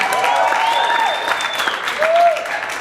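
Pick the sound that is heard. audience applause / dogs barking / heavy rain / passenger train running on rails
audience applause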